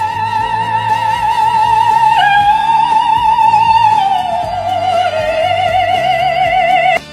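An operatic soprano sings from a played recording, a loud sustained vibrato-rich voice holding and stepping between long high notes over soft accompaniment.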